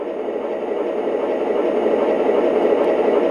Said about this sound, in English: the engine just got a lot more bass to it, a lot more throatiness to it.